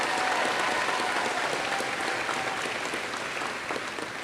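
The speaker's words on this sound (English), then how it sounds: "a big round of applause for all the families out there" A graduation audience applauds families in a steady, dense wash of clapping that holds loud and even for several seconds with no speech.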